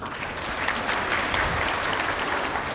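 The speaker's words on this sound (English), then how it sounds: "A round of applause for her, please." Crowd applause at a public gathering in Kisumu, a dense steady wash of clapping that stays loud and even throughout with no pauses, sounding close and filling the space with no voices rising above it.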